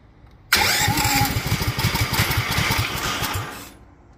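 A Duromax 18hp engine started with its magnesium intake filter removed catches abruptly and runs close and loud for about three seconds with a rapid, lumpy firing rhythm, then cuts out and dies away.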